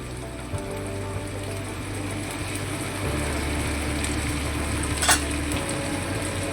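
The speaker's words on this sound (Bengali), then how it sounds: "বাটা মশলাগুলো তেলের মধ্যে খুব ভালোভাবে নেড়ে চেড়ে কষিয়ে নিতে হবে" Spice paste with turmeric stir-fried in oil for a vegetarian young jackfruit curry gives a steady, close sizzle over a low hum, with one brief clatter near the end.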